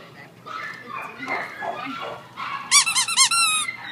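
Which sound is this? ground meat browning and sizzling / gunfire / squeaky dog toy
squeaky dog toy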